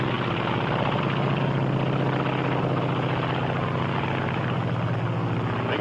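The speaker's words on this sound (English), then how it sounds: "This is the Japanese Zero." A Japanese Zero fighter plane's engine drones in a loud, steady propeller roar that holds without a break, close and continuous with no voices over it.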